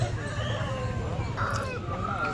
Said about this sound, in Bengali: অনেকগুলো মুরগি বেড়ার ভিতরে আছে